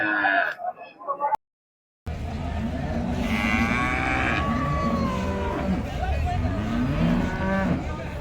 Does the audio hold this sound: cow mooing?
yes